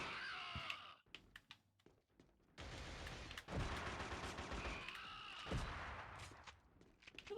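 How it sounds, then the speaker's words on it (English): Shotgun blasts and other gunfire in the PS2 shooter Killzone: loud, broadband bursts, some sharp and some sustained, crowd a busy firefight with almost no pauses between them. "Who the fuck is shooting me with the shotgun?"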